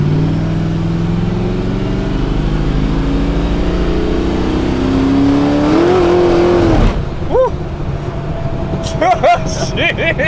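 A loud car engine roars and revs with rising and falling pitch while drifting on an Australian street, then sharp revving bursts and tire noise toward the end.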